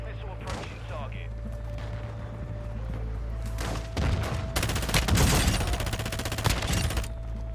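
Sustained automatic gunfire in the shooter game DMZ, with scattered shots building into a loud, dense fusillade of rapid rounds over a low engine drone and radio-style callouts.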